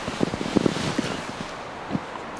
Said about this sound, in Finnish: Aina kun ne myräkkä käy tuolla pihalla. Hirveä tuuli